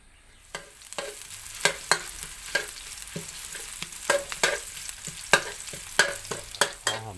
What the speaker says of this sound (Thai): เดี๋ยวเรามาเจียวหอมแดงกันก่อนครับ